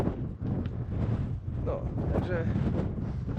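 Strong wind gusts roar across the microphone in uneven, rumbling bursts, with faint higher tones flickering through near the middle, at Higger Tor in the Peak District.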